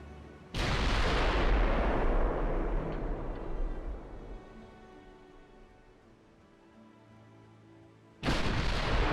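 Heavy naval guns boom in the Ultimate Admiral Dreadnoughts battleship game: a loud blast rolls out into a long fading rumble, and a second salvo crashes in near the end.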